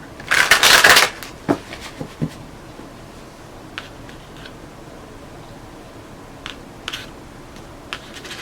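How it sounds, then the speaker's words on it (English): Tarot cards shuffled in a loud riffling burst at the start, followed by a few soft taps and faint card handling in a quiet room. "All right, one more shuffle."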